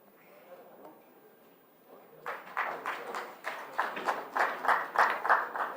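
An audience applauds a minister at an industry partnership summit. The clapping starts faintly over background murmur and then builds into a louder, dense round of claps that swells toward the end.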